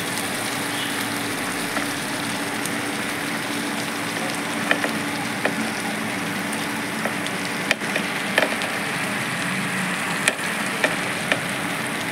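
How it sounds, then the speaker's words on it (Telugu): Radish pods and chopped radish leaves fry in a pan with a steady, close sizzle, broken by small scattered crackles and pops, and no talk. "ఇప్పుడు ముల్లంగి కాయలు ప్లస్ ముల్లంగి ఆకు ముక్కలు అనేవి వేసేద్దాం"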